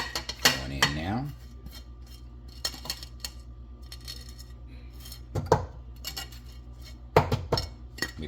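Utensil clinks against a bowl while lemon pound cake batter with lemon zest is mixed, a few sharp knocks and scrapes spaced over a low steady background hum, close and moderately loud.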